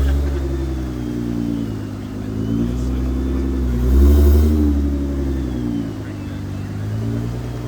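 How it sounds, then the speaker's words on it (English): A Nissan GT-R's engine rumbles nearby at a car meet with a deep, uneven idle, swelling briefly louder as it rolls in, steady and close. "A GTR pulling in."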